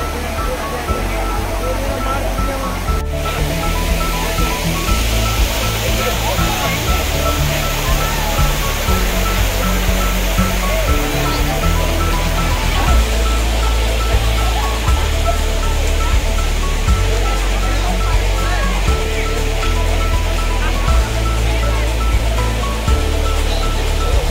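A loud, continuous roar of falling water fills the whole stretch, steady and broadband with no pauses, as if standing close to a waterfall.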